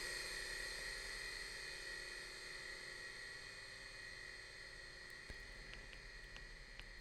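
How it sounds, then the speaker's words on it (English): Infinite reverb from the Airwindows MatrixVerb plugin with damping switched off, a faint steady wash of sustained tone and hiss that hangs without decaying, broken by a few soft clicks near the end. "infinite reverb can sound like this."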